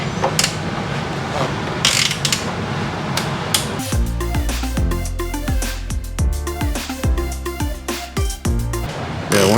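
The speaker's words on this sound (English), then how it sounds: "now where'd that wrench go? Go ahead and tighten this one down." A wrench tightening a bolt on a fiberglass Bronco fender, quiet at first, then a loud run of rhythmic ratcheting clicks close by, with a few irregular metallic knocks.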